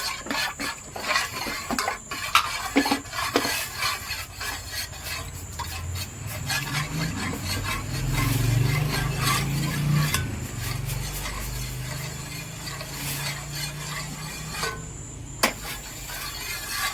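Cornflour is mixed in a bowl, producing continuous close scraping and rubbing with scattered clicks and knocks of the utensil against the bowl, at moderate loudness throughout.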